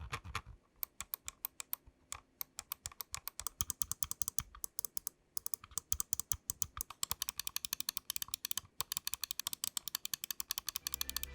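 A Razer Viper Ultimate mouse's scroll wheel being spun, producing a close, dry stream of rapid little notched clicks in uneven bursts with brief pauses, alone and fairly quiet.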